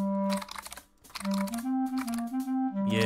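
Keys clatter quickly on a computer keyboard during a typing game, the fast clicking running under a loud, steady, tonal backing track.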